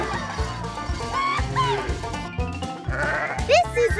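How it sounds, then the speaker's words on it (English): Sheep bleat on a farm amid a busy mix of other livestock and fowl calls, with several wavering bleats rising over steady background music or noise and a voice talking. "This is a sheep."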